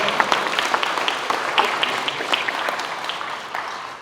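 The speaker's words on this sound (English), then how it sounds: "So a round of applause for him." Audience applause rings out at a Freeway Day celebration in Philadelphia, a steady wash of clapping at moderate volume lasting the whole stretch, with a few sharper individual claps standing out near the front.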